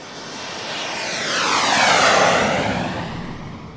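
A fixed-wing airplane flies past, its engine drone swelling to a loud peak near the middle with a sweeping Doppler shift, then fading away.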